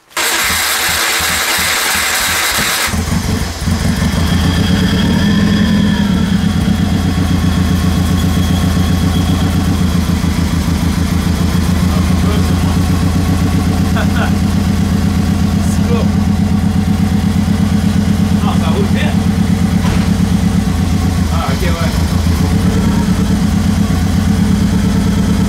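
A Subaru engine, with the air filter and MAF sensor just refitted after an ignition coil conversion, cranks briefly, catches and settles into a loud, steady idle that continues throughout.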